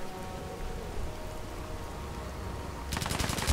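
Gunfire in the post-apocalyptic video game Fallout 4, a steady crackling rattle of distant shots with a louder, sharper burst of rapid rounds at the very end.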